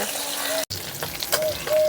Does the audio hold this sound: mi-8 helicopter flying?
no